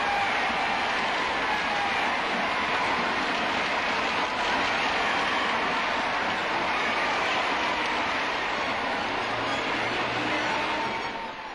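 A vast crowd of about 50,000 at St James's Park, United's home ground, roars steadily as Joe and his cup-winning team go round the pitch, a continuous dense wash of cheering with no break.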